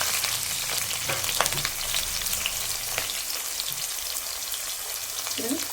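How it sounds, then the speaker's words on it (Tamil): Mustard seeds splutter in hot oil as onion fries with them, a dense continuous crackling sizzle with scattered pops and a faint low clunk near the end, close and loud with no speech. "இது கடுகு பொறிஞ்சிட்டு இருக்குது இந்த டைமில் வெங்காயம் கொஞ்சம் சேர்த்துக்கலாம்"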